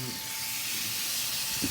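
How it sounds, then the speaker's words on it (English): Bone-in rib steak sizzles in an oiled, smoky pan, giving a steady close hiss and crackle throughout with faint low background noise. "Look at that steak sizzling."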